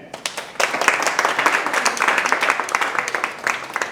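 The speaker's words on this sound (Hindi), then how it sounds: "तो एक बार मैं चाहूँगा कि आप अपने लिए ताली बजाएं" A crowd at an anniversary thank-you evening claps for themselves, a lively patter of many hands with sharp individual claps standing out, rising quickly and continuing steadily for several seconds.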